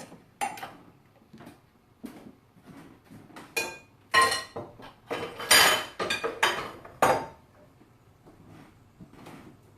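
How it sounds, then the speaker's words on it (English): Dishes, pots and cutlery are tossed into a kitchen sink, a run of loud, close clattering crashes and metallic clinks in irregular bursts with quiet gaps between. "I'm just going to throw this stuff into the sink"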